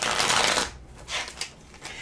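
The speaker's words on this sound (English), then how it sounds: "you can shuffle them like a deck of cards" Cards are riffled in a quick shuffle, followed by a few softer flicks and rustles of the deck, close and clear.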